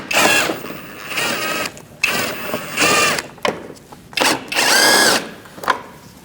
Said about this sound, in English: Now we're going to remove these two bolts using a 7mm socket.